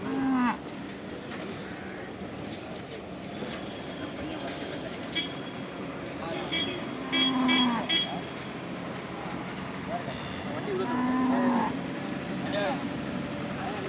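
A cow struggling to give birth to a calf lets out several low, drawn-out moos spread across the stretch, over a steady background rumble with voices talking nearby.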